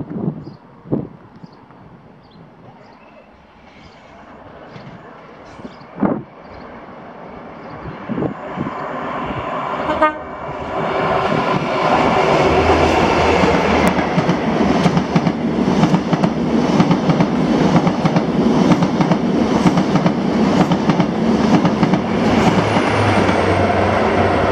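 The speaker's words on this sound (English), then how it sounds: "this is 1W96, the 1840 London North Eastern Railway service to Inverness from London King's Cross" A London North Eastern Railway passenger train bound for Inverness at Blair Atholl, starting with distant rumble and a few sharp clanks, then swelling into a loud, sustained roar of wheels and engine as it passes close by.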